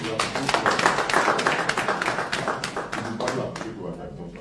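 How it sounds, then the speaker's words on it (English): Attendees at an investment meet-and-greet in Toronto clap together in a brief burst of mixed, uneven hand claps that gradually thins out, with voices murmuring underneath. "Please clap for it."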